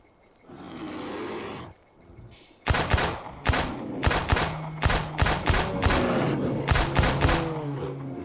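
A low roar from a bear in the survival game Miscreated, then a rapid string of loud pistol shots, close and sharp, fired in quick bursts at the animal.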